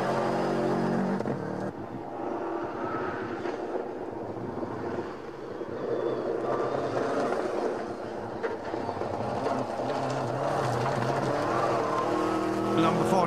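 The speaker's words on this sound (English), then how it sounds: "The Atlas Communications car, Tom Hogan, then we pick him up on stage 3" A rally car races through a stage of the Border Counties Rally, its engine droning loud and steady with wind buffeting, while a commentator talks over it.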